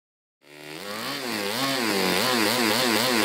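A small OS FS-40s four-stroke RC model engine, bored out and tuned, starts up and revs hard, its buzzing note rising and wavering as the throttle opens, loud and close with no talk.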